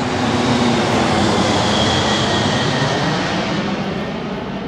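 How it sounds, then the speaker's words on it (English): A fixed-wing airplane passes overhead outside a store at early morning, a loud, steady broadband engine roar filling the whole stretch and easing slightly toward the end, with no talking. "an airplane's going overhead"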